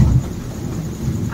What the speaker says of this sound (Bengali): দেখো তোমরা নিশ্চয়ই শুনতে পাচ্ছ কত জোরে জোরে মেঘ ডাকছে।